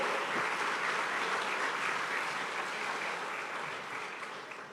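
A church congregation applauds the Lord at a sermon, a sustained dense wash of many hands clapping that stays steady and loud before tapering slightly at the end.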